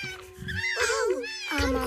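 A cat meowing in a children's cartoon, two drawn-out, wavering meows up close and fairly loud, with a low background hum.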